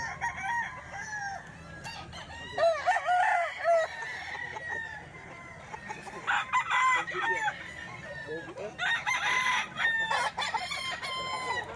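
Several roosters crow over one another amid clucking fowl at a busy Philippine chicken market, with long rising crows repeating at a close-to-middle distance over faint background chatter.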